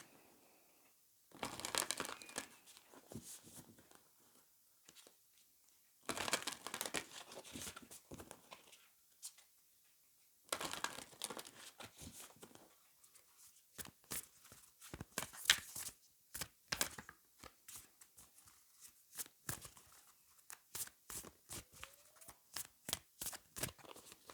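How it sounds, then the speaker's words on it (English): Oracle cards being shuffled by hand, in repeated bursts of papery riffling and rustling separated by short pauses. The sound is close and fairly quiet, with no talk. "We get you some oracle cards."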